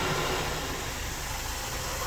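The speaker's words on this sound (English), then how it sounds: "High pressure rinse then." High pressure rinse in a Ryko SoftGloss XS automatic car wash at an Exxon station, a loud, dense, steady spray roar heard from inside the car.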